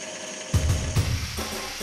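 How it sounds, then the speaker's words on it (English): A power drill whirs steadily with a few louder bites as it drills holes in the clamping parts of a slingshot, close up in a workshop. "Now drilling the holes in the clamping parts as well."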